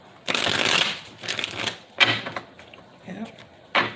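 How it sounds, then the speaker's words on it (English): A deck of tarot cards is shuffled in several quick riffling bursts, close and crisp, with short pauses between them and a voice speaking faintly in the gaps. "I'm going to shuffle the deck."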